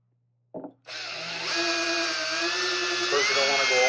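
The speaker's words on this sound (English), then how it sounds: "we're just using a little drill bit and we're going to hit each one of them" A small drill bit driven into plastic grommets on a Model S Plaid seat back, starting with a short burst, then a steady close high-pitched whine whose pitch drifts slightly as it bites, loud and continuous.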